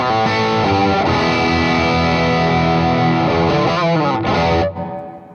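Electric guitar played through a Breaking Bad overdrive pedal into a Marshall Origin 50 head with a Strymon Flint reverb in the effects loop, sustained distorted chords changing a few times and ringing out at the end, loud and alone.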